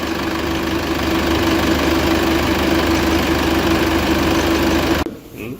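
A common rail diesel engine idles steadily and close by during an EGR flow test, its loud, even, knocking hum running unbroken until it cuts off abruptly near the end.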